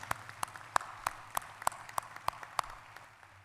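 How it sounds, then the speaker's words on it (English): Sparse, evenly spaced claps at a university graduation ceremony: about ten distinct hand claps in a slow, regular rhythm, close and clear over a faint low hum, with no talk. "Please welcome each one of them with a round of applause."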